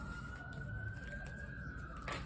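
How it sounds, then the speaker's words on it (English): A faint siren wails outside, a single steady rising tone that carries on unbroken beneath a low, constant background rumble, distant and muffled. "Pardon the sirens"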